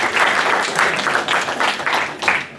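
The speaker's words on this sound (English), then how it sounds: "Yeah, you can clap nicely also." Audience clapping at a devotional question-and-answer gathering, a lively burst of many hands with uneven pulses and swells, fairly close and loud, with no voices over it.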